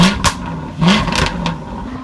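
A Jaguar F-Type SVR engine revs in loud, close bursts, rising and falling through two or three quick blips with no talk over it.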